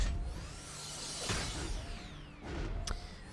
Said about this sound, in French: ça fait bruit d'aspirateur